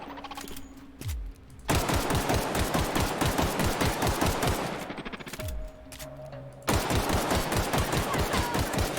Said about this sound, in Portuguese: aqui pega na grade o tiro dele